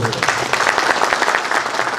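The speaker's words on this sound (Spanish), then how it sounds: "un aplauso, muchas gracias" Dense applause from a large audience at an agronomy lecture, steady and loud for the whole stretch.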